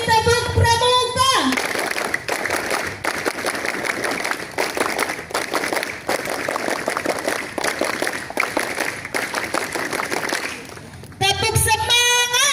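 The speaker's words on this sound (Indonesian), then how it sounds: "3 kali tepuk pramuka." Scout troop at a campfire night gathering performs the tepuk pramuka, a long stretch of loud, rhythmic group hand claps in quick succession, with children's voices calling out just before and after.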